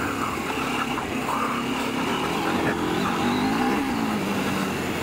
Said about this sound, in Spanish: voy a punta de gas con la moto porque estoy de rodaje